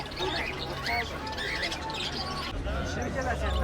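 Caged birds for sale chirp and tweet amid a busy Fergana farmers' market, their calls repeated over steady crowd babble and talk.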